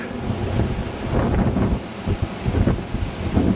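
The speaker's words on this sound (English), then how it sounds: "you get one of these 50-mile-an-hour wind gusts at you with snow" Strong winter storm wind with snow roars and buffets the microphone in rough, surging 50-mile-an-hour gusts, a loud continuous rumble with no voices.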